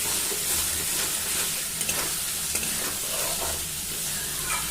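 Spice masala for a Bengali fish curry fries in a pan, a continuous oily sizzle and hiss with repeated scraping stirs running through it, close and steady, with no voices.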